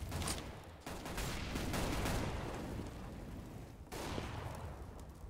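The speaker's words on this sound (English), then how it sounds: "Just bullets flying left, right, and centre." Dense, continuous gunfire from the Counter-Strike game on the Inferno map during a FACEIT League match, bursts of rapid shots layered over one another with brief lulls near one second and four seconds.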